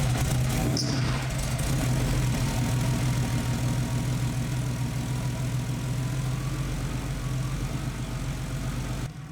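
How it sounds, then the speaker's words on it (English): A Porsche 964 Turbo engine fires up and settles into a loud, steady, rumbling idle that runs continuously and close by. "We hit the key and it just starts."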